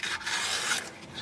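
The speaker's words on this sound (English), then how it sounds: "Just a little bit of sanding." Steady abrasive rasping of sanding during a BMW E36 trailing arm ball joint replacement, like sandpaper worked back and forth over a surface, close by and continuous for a moment.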